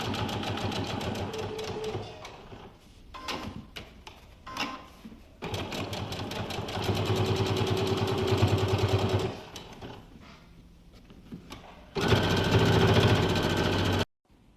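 A sewing machine stitches two shirt yoke pieces layered together, running in fast, even bursts with brief pauses between runs, close and clear, with no talk.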